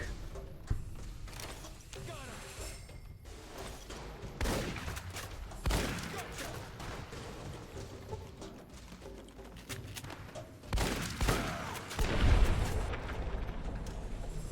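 Gunfire in Fallout: New Vegas, with several loud bursts of shots and booms spread unevenly over a low, rumbling game background while a person talks between them.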